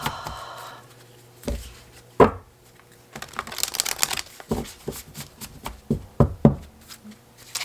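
Oracle cards being shuffled and handled: quick riffling bursts and soft taps and knocks, close up and irregular, with no talking.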